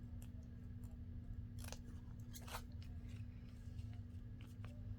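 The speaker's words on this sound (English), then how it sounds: "I figured everybody knows how to cut pieces out, so I would just go ahead and cut mine out." Scissors snip out pieces from a sheet of paper in a 6x6 paper craft project, a few quiet crisp cuts close by over a steady low background hum.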